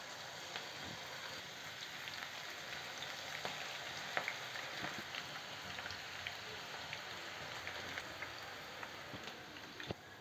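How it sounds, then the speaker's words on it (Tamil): Cabbage pakoda frying in hot oil over a low flame, giving a steady, soft crackle with scattered pops, fairly faint and continuous, with no talking. "லோ ஃப்ளேமில் வச்சுட்டு நம்ம இந்த பக்கோடாக்கள் இப்படி இந்த மாதிரி நல்லா அப்படி போட்டுருவோங்க."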